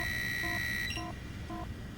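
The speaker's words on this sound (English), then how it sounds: "And the heart beeping sound." Repeated electronic warning beeps signal low health in the Wario World video game. A sustained high tone cuts off, then short two-tone beeps pulse at an even pace over a soft game backdrop.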